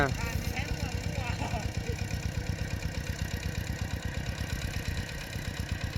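Tractor engine plowing a rice paddy chugs steadily up close, its low, even pulses repeating without a break, while someone talks briefly over it near the start.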